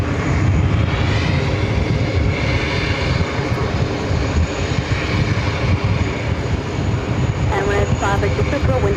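An American Airlines Boeing 777-300ER arriving from Madrid lines up for runway 22 left at JFK, its jet engines producing a loud, continuous roar that fills the whole stretch.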